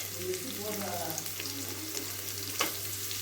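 Beans, carrot and cabbage sauté in oil with ginger and garlic for homemade noodles, giving a steady soft sizzle with light stirring scrapes. A brief clink stands out near the end.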